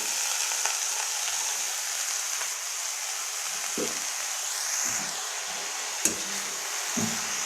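Greens fry in a wok with a constant close sizzle, broken by a few soft knocks of a spatula stirring, without speech.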